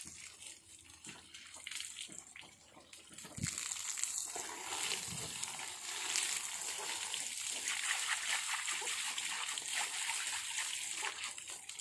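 Water splashes and pours continuously over a dairy cow being bathed, with sloshing and spattering that grows steadier and louder after a few seconds, close by.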